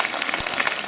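Brief burst of audience applause at a ballroom dancing championship, dense clapping from a crowd heard at moderate level for under a second.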